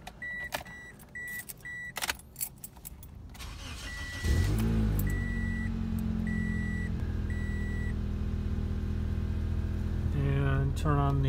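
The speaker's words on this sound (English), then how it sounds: "Okay, going to start the car up." A Toyota Corolla or Matrix engine cranks and catches a few seconds in, then settles into a steady, loud idle after a stretch of door-chime beeps and brief movement noises, with the hum continuing to the end.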